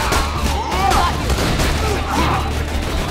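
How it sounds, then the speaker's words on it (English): Rapid gunfire from a Gunzerker's gun in Borderlands 2, a dense continuous fusillade of shots with explosive booms layered in, loud and sustained throughout. "The longer you hold down the trigger, the faster it fires."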